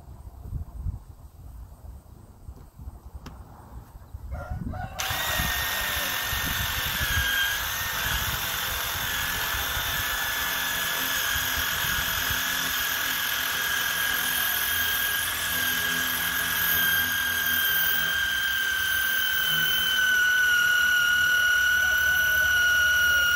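A power drill bores a hole through material for an ornamental well project, starting after a few seconds of quiet and then running loud, steady and whining without pause to the end, with no talk over it.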